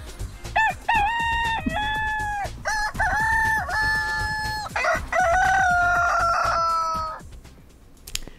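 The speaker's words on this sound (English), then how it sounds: "I think that deserves a rooster" A rooster crows several times in quick succession, loud, clear cock-a-doodle-doo calls with sharp clucking breaks between them, then a final long crow that fades out.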